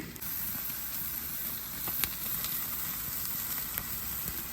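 Thick cowboy steak sears on an Oklahoma Joe's Rambler grill, a steady close hiss of sizzling fat running throughout with a few sharp pops and crackles, no voices.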